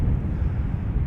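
A Suparna Boeing 747-400 landing at Amsterdam Schiphol gives a brief, dense low rumble of engine roar mixed with wind buffeting, steady and fairly loud through the whole second.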